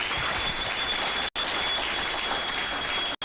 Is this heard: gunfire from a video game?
no